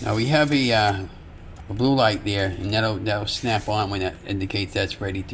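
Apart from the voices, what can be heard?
No everyday noises stand out.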